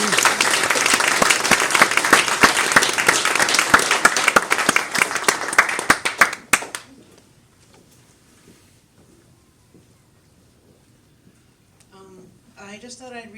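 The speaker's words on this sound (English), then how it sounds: "But yeah, let's hear it for Nina." An audience at a bookstore reading applauds with steady, loud clapping that lasts about six seconds and then stops abruptly. After a quiet stretch, a voice begins speaking near the end.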